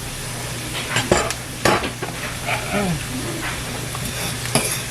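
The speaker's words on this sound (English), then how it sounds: "So I'm going to let the onions go ahead and cook and get a little translucent" Onions cooking in a pan, a steady close sizzle with a few sharp utensil scrapes and knocks as they are stirred, and a low hum underneath.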